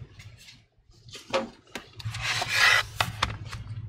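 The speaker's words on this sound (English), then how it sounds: "Using a metal prying tool, go underneath the bracket and pry it open." A metal prying tool working under the bracket inside an Asus Zenbook Q420V laptop, giving short scraping rubs and sharp clicks, close and small, in a few irregular bursts.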